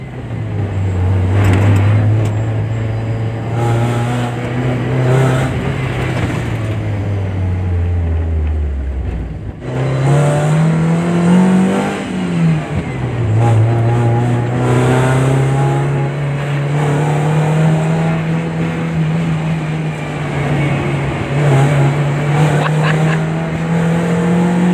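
A red Toyota Timor car engine revs and pulls through the gears on a test drive, a loud steady drone rising and falling with a brief dip near the middle, close and continuous without talk.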